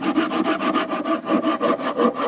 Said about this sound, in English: And using the entirety of the saw, this is English oak, and it's making relatively light work of it.